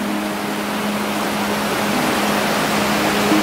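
A large waterfall with a long drop roars in a steady, dense wash of broadband noise, close and loud throughout with no talking.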